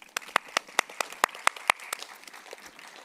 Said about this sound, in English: let's put a huge round of applause for all the organizers of Star Trek.